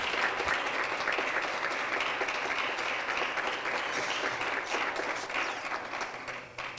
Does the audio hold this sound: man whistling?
no